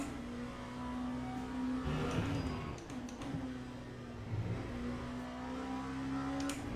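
Race car engine in the Le Mans Ultimate sim racing game, a steady loud drone with revs rising and falling through a corner at Laguna Seca or Daytona, running continuously with no talk over it.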